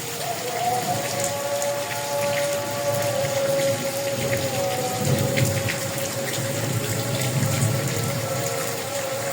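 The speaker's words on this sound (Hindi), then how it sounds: "बहुत तेज़ बारिश हो रही है।" Very heavy rain pours down in Faisalabad, a dense, steady hiss of drops drumming on surfaces close by, with faint rumbles of thunder rolling underneath.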